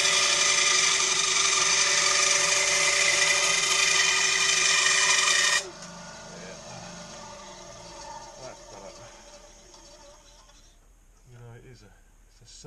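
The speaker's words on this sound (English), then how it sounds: "It's a surgeon, that bandsaw." A bandsaw slices through a piece of wood during boat hatch refurbishment, a loud steady whine for the first five and a half seconds that stops abruptly, leaving quieter workshop sounds with talking afterward.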